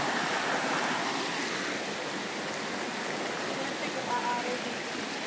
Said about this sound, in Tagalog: Sobrang lakas na ng tubig.